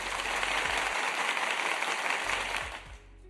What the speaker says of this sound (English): that clapping one is most appropriate tonight